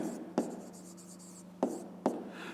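A pen writes out a maths answer by hand on paper, faint and close, with soft scratching strokes and three sharper taps on the page.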